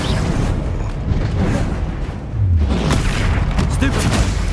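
Confringo blasting spells explode amid Hogwarts Legacy combat, a constant loud booming roar with dense crackling bursts, briefly dipping before swelling again into heavy rumbling blasts.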